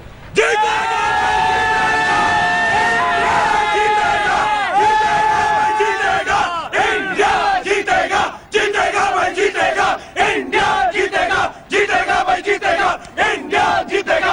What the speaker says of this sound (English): how loud a cheer are we going to hear this time?